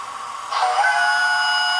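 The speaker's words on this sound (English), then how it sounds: "Listen how loud this whistle is." A Hornby TTS model steam locomotive sounds its whistle: a loud, sustained shrill tone that starts abruptly and holds steady, heard close with no talk.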